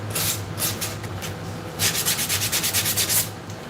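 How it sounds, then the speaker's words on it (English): Sandpaper rubbed by hand over a wooden sign, close rhythmic scratchy strokes, slower at first then a faster run of about ten even passes. "Take a little sandpaper."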